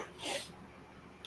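A single short, breathy sneeze, fairly faint, followed by quiet room noise.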